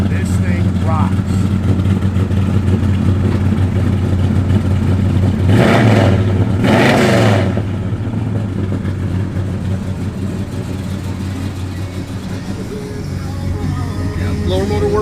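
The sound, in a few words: 1970 Dodge Super Bee engine revving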